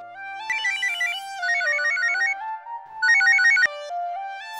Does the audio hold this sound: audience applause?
no